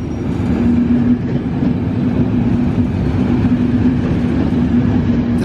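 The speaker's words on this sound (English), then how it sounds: "The train set itself today was quite spectacular as well, as you can see here as it was put into the station." An SBB EuroCity train set rolls into the station with a loud, steady rumble and a constant low hum, with no voices over it.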